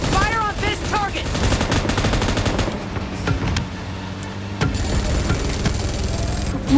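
Bursts of automatic gunfire in a shooting video game, rapid volleys and single loud shots in a busy mix of game effects, with a voice briefly heard.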